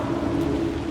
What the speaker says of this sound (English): The rain never stopped falling.